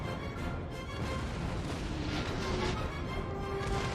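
A continuous roar of massed artillery fire rumbles from the Napoleonic-era strategy game Total War: Napoleon, its booms blending into a dense, steady barrage of even loudness with no distinct pauses.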